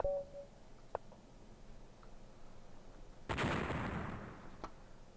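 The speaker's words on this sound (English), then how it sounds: "can all clearly hear the kaboom sound" In a game of Atomic Chess on lichess.org, a faint click or two sounds, then a single loud explosion effect bursts out and decays over about a second, alone without talk.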